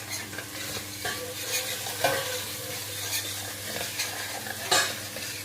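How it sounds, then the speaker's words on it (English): Turmeric goes into a frying cauliflower and potato curry and is stirred in a pan, producing soft scraping strokes over a continuous sizzle, close and moderately loud, with no voices. "I'm going to now add 1½ teaspoons of turmeric. Give that a stir."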